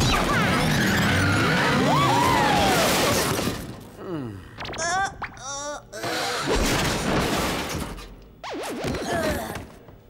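Cartoon motorcycles roaring off in a rush of engine noise, crashes and skids, sweeping loudly at first, then breaking into sharp revving bursts and whooshes with brief gaps between them.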